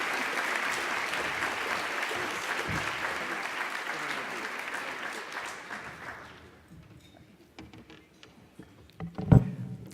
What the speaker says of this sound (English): I really would appreciate your giving them a huge round of applause.